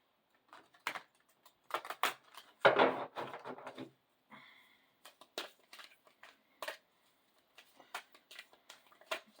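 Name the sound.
shuffling cards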